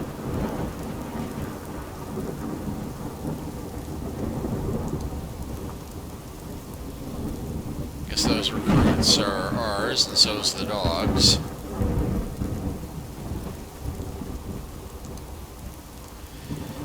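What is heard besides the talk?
thunderstorm with rain in a video game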